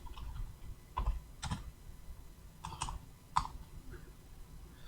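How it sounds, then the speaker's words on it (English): Typing on a computer keyboard during a live stream, with a handful of quiet, scattered key clicks and a few quick double taps against faint room noise, no voices. "My keyboard skills are just no good. I keep hitting the keys."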